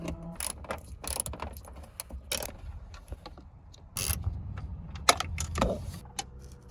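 Small 7mm screws being backed out of the top dash cover on a 10th-generation Ford F150, heard as close, irregular ratcheting clicks and light metallic rattles with brief louder handling knocks, no talking.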